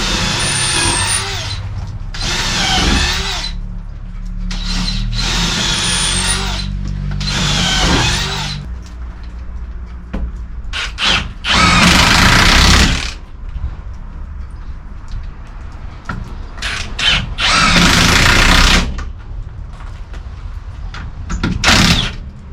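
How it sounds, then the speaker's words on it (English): A power drill runs in repeated bursts of several seconds each, separated by pauses with low rumbling and knocks, loud and close while screws are driven in an employee area build. "let me finish drilling these"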